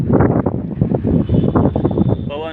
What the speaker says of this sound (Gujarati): પવન છે ને આપણે સામું હાલવામાં તકલીફ પડે એટલો પવન છે